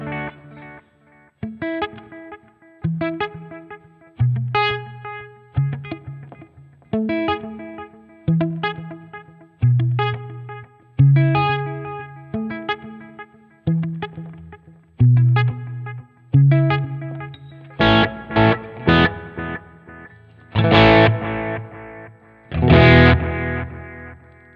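Electric guitar through a Sonicake Matribox 2 999 Echo delay modeled on the Maxon AD999 analog delay, distorted chords and riffs with repeating echo tails, building to heavier strummed bursts near the end; no talking.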